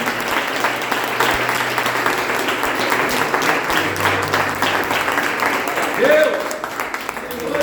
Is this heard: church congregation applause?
yes